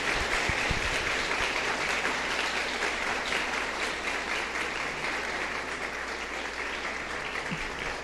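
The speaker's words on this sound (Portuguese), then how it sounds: "dá uma salva de palmas para o Senhor" Church congregation applauding, a dense sustained wash of clapping from many hands that holds steady and fills the room for several seconds, with a few faint voices underneath.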